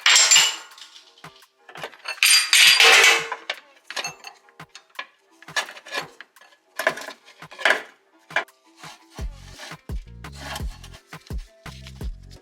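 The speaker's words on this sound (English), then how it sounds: "You'll know you've pulled it out far enough when you hear all the washers drop into your skid." Metal washers dropping into a skid plate under an off-road vehicle during an upper control arm install: a series of sharp, close clinks and rattles, several bunched early and more scattered after, with no talk.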